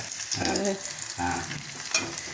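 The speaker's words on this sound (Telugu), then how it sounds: "టమాటాలు వేసాను. టమాటాలు వేసారు. నూనెలో బాగా వేగాలి." Tomatoes frying in oil in a home kitchen pan for a broad bean curry, with a steady crackling sizzle and a few soft bursts of movement, no voices.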